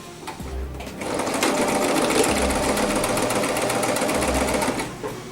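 A sewing machine stitches a zipper in one continuous fast whirring run, loud and close, with low thumps near the start and end.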